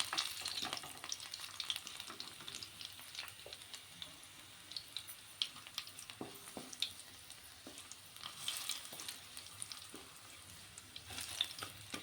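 Garlic fries in hot oil in a home kitchen, giving a soft, continuous sizzle with occasional stirring scrapes, faint and close with no talking.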